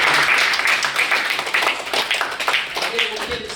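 An audience at a student talk show claps in a lively burst that gradually thins toward the end, with voices and cheers mixed in over the clapping.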